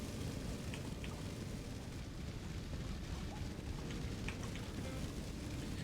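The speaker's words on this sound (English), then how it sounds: "Oh yeah, now you start raining, of course." Rain falling in a video game, a steady dense patter filling the whole stretch with a constant broadband hiss and faint scattered drips, no talk over it.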